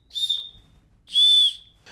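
Two short, shrill blasts from the small whistle built into a multi-tool sound up close, the first brief and the second longer and steady, with quiet in between.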